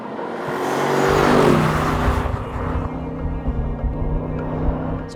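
An Aston Martin Vantage slows and pulls over on a road, its engine note swelling then easing into a lower steady hum with tyre and wind noise, heard close up and without talk.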